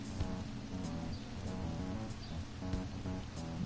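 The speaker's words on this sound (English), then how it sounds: "This rain ain't too bad." Rain in the video game Persona 5 Royal makes a steady, soft hiss of falling rain under a low, sustained musical drone. The sound stays even throughout.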